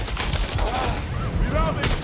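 Gunfire rattles through a Watch Dogs Legion firefight, a dense run of muffled shots over rumbling game noise with faint voices mixed in.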